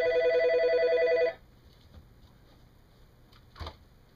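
A phone message alert rings loudly and close for just over a second, a bright repeating electronic tone that stops abruptly, followed by quiet room sounds and a soft thump during a watercolor painting session.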